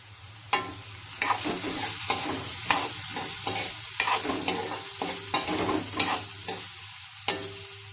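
Beetroot poriyal is stirred in a pan, a spoon scraping and tapping in steady strokes over a soft background sizzle, close and fairly quiet with no voices.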